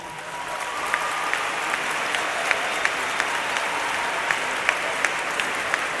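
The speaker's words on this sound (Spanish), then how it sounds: "Y el director del coro de Mexicali es Omar, a quien pido un fuerte aplauso." Audience applause for a choir director at an Apostolic church hymn event, a steady dense wash of clapping filling the whole stretch at even loudness, with a few sharper claps standing out.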